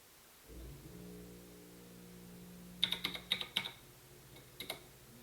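Keys tapped on a computer keyboard during a computer science class, a quick cluster of clicks followed by a couple more presses over a steady low hum.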